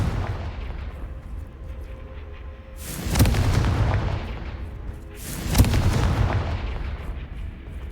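Two heavy booming blasts of a Confringo fire spell in the video game Hogwarts Legacy, about two and a half seconds apart, each a loud close burst that rolls off slowly over a low ambient rumble.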